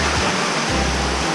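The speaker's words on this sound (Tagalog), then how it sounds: "sa harap po ngayon ang falls" Tagkuriring Falls pours in a steady, close rush of falling water, broad and unbroken for the short stretch with a low rumble beneath, and no voices.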